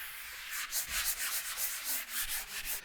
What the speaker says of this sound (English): I'm just going to go along and just sand the spackle flat.